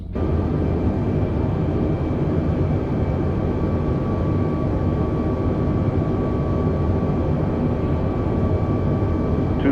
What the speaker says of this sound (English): here is some recent footage of me landing a plane at this very airport